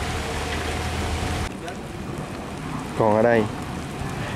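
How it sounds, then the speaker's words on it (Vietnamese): Heavy rain falling outdoors at a bridge collapse recovery site, a steady dense hiss throughout, with a sudden shift in tone partway and someone speaking briefly over it. "Ở mưa thì càng ngày càng nặng hột rồi."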